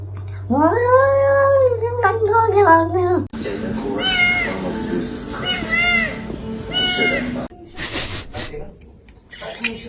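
A house cat lets out a long, close meow in a kitchen, then busy voices and noisy cooking-like commotion take over, with more scattered cat sounds mixed in.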